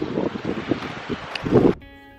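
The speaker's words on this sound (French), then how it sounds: "Par contre, quel vent de folie!" Strong gusting wind blows across the coast at Sagres, Portugal, roaring in uneven bursts against the microphone for nearly two seconds before cutting off abruptly.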